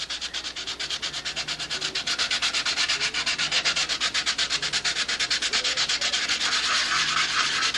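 Rapid back-and-forth sanding on glued wood, a steady rhythmic scratchy rasp close up, continuous and fairly loud, with no voices.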